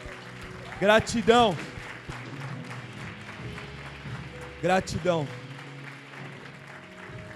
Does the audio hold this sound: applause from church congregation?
yes